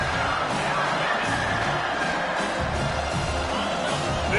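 Large football stadium crowd roaring in a continuous, dense wash of cheering and shouting at steady loudness throughout, heard from a distance across the stands.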